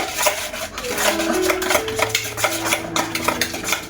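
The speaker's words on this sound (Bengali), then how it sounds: "এবার চিনি ডিমটা ভালো করে একটু ফেটিয়ে নেব।" Sugar and egg beaten together in a bowl for homemade flour biscuits, a quick, steady scraping and clinking of the whisk against the bowl, close and continuous with no talking.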